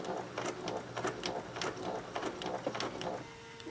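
A sewing machine runs in short bursts while stitching straight down a tiered maxi skirt after a pivot, its close, steady mechanical chatter punctuated by brief clicks and pauses.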